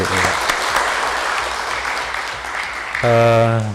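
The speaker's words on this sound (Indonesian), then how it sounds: "sekali lagi kita beri aplaus yang semangat Bapak Ibu" Indoor audience at a regional education office presentation gives a sustained burst of clapping, loud and dense, before a voice cuts in at the end.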